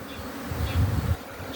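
Honeybees buzz around nucleus hives while carrying pollen, a steady close insect drone that swells briefly in the middle, with no talking.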